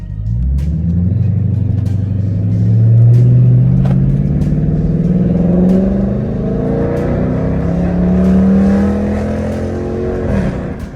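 A 2013 Dodge Charger R/T engine pulling hard in manual mode, revs climbing steadily then dropping at each gear shift, loud rising drone with repeated upshifts, heard from inside the car.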